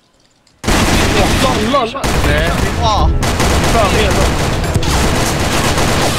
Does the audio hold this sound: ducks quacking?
no